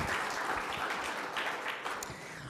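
An audience applauds a new member from Vallejo Behavioral Health Care at a Safe Streets community meeting, a steady wash of clapping from many hands, moderately distant and filling the short span alone.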